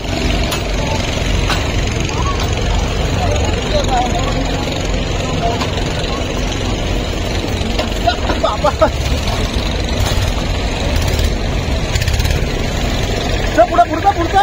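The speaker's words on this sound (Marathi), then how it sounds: "हे आपल्याला बोट राईड आहे. बोट आहे" Steady, loud drone of a boat engine running through a river boat ride at Omkareshwar, continuous and unbroken, with people talking over it.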